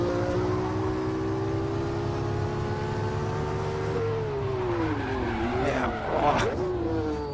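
A race car in Automobilista locks its tires under braking at Sebring, the engine note dropping as tires squeal and skid, with someone talking over the steady engine drone.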